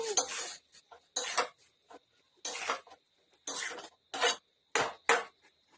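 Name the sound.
adding fried prawns to boiled potatoes in a pan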